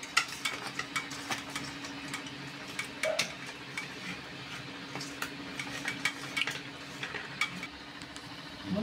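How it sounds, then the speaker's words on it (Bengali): Boiled pumpkin mashed together by hand with salt, dried chili and turmeric in a bowl, heard as soft, irregular tapping and clicking, close and quiet, continuing steadily with a faint low hum behind it. "আর একটু শুকনো মরিচ আর হলুদ দিয়ে আমি সুন্দর করে এটাকে মেখে নেব।"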